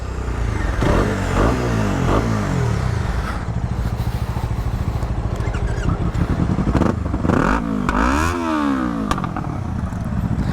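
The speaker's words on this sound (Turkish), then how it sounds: "Boş çalışıp gaz vermemiz lazım." Several motorcycles ready for a night ride into a forest idle and rev repeatedly nearby, the engines rising and falling in sharp bursts over a steady rumbling idle.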